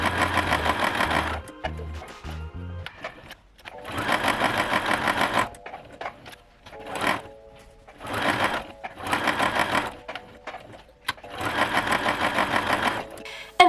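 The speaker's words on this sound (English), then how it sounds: "we sew on all 4 sides of our squares, okay? With 1/4 inch foot." Sewing machine stitching quilt squares with a 1/4 inch foot, loud close bursts of rapid mechanical whirring separated by short pauses.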